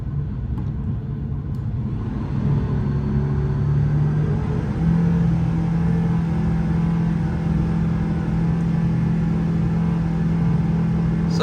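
A Rotax 914 turbocharged aircraft engine runs steadily on a dyno, a loud, continuous droning rumble with a strong low tone that rises slightly in pitch partway through.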